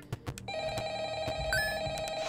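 A telephone rings in the video game Ultra Custom Night, a bright electronic bell tone that starts after a few sharp clicks and sustains steadily, close and fairly loud.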